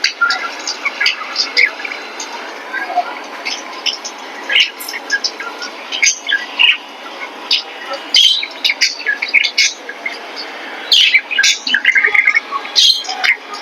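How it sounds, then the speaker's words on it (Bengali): Pet birds kept indoors chirp and tweet in quick bright bursts, growing busier toward the end, as a recorded bird call plays from a mobile phone nearby; a person talks quietly underneath. "আমি আমার মোবাইলে একটা পাখির আওয়াজটা চালু করে দিচ্ছি"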